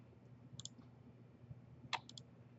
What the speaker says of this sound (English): Just by highlighting it and then clicking the right mouse button,